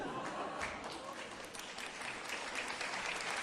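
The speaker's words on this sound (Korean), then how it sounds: "예, 박수" Audience applause at a Korean talk event, a continuous, fairly faint patter of many hands clapping with no clear voices over it.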